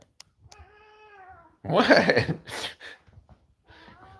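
A cat gives a long drawn meow, then a person briefly speaks loudly, followed by another shorter meow near the end, all close and indoors.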